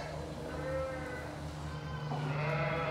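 A ewe bleating during lambing in a pen, a loud, close, drawn-out bleat with a second cry near the end, alone over a quiet barn background.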